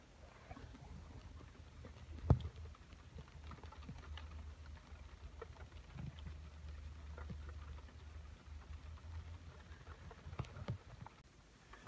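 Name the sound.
rain falling on a van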